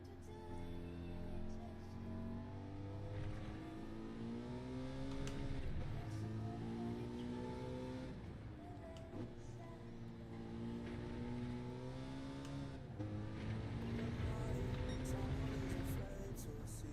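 Ford GT350R engine in a sim racing game at Laguna Seca, droning steadily and rising and falling through the rev range with gear changes, continuous and moderately loud under intermittent speech.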